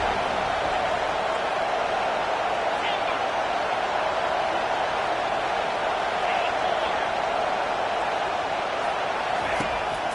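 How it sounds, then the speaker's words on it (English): Home stadium crowd in an American football video game gives a steady, dense wash of roar throughout as the defense tries to get off the field on third down, constant and fairly loud. "Here comes this home crowd as the defense tries to get off the field on 3rd down."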